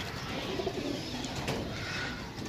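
Pigeons from a flock of about thirty kept for a pigeon game in Gujrat, Sarai Alamgir, cooing in low, soft rolling calls over a steady outdoor background, continuous and moderately close.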